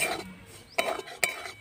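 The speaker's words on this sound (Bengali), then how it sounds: "আমি ঘি দিয়ে ভাজবো সুজিটা" Semolina stirred in ghee in a wok, with quiet scraping and two distinct metallic clinks of a spoon against the pan over a soft background, no talking.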